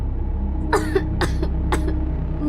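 A young girl coughs in a dramatized horror story, four short, sharp coughs spaced apart over a low steady background hum.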